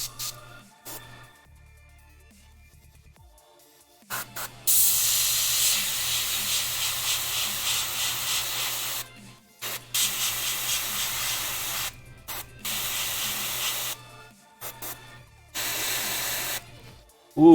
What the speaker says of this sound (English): I forgot what a new airbrush feels like.